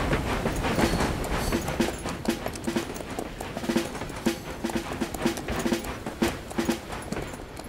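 Horse hooves clip-clopping in a brisk, regular rhythm, loud and close, with a rattling, train-like clatter running alongside in a Lucky Luke cartoon scene.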